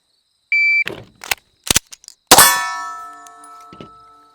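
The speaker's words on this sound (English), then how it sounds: "I'm gonna pick this gun up, put the magazine in, and try all three different ways to rack" A 1911 pistol is handled on a shot timer: a timer beep, then a metallic clack as the magazine seats and sharp clangs as the slide is racked, ending in a ringing tone that fades. No talking.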